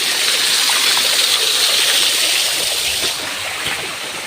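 A rain-swollen hillside stream rushes steadily, a broad, close, continuous hiss of flowing water that eases slightly near the end, with no voices.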